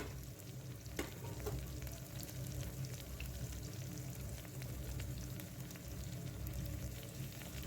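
Chopped onion and tomato sauté together in a pan for masale bhat, a soft, steady sizzle with occasional light stirring scrapes, fairly quiet and continuous, with no talking.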